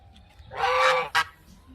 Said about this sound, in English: I have two adolescent African geese imprinted onto me